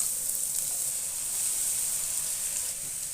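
Finely chopped onions sautéing in hot oil for a carrot, bean and egg stir-fry, a continuous bright sizzle and hiss that stays steady and close throughout.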